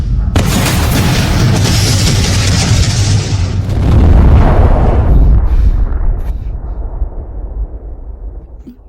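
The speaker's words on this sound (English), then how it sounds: "I'm gonna set off a big firecracker for you." A big firecracker goes off with a loud, close boom, followed by several seconds of rumbling debris and crackle that slowly fades away.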